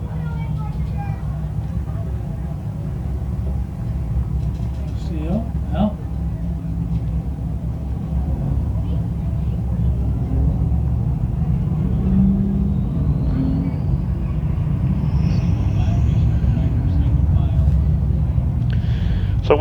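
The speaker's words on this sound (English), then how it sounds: "So Tessa Riemersma will get the car refired and back up to speed" A race car at Can Am Speedway refires its engine and builds speed during a caution period: a steady engine rumble that swells toward the end, with a track announcer talking throughout.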